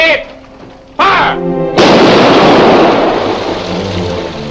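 Ship's cannons on a 1945 pirate-era vessel fire in a loud, booming volley, a sharp blast followed by a sustained roaring rumble that fills the rest of the moment; a brief shouted voice comes just before.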